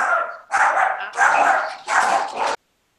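A dog gives three short bursts of barking or yipping, close and loud, each about half a second long with brief gaps between them, then silence.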